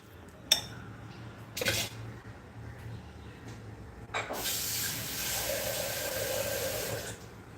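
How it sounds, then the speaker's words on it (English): Water is poured into rava dosa batter in a kitchen, a steady hissing pour lasting several seconds after a few sharp clinks of utensils against a bowl. "So good amount of water goes in till you get a flowy, runny batter."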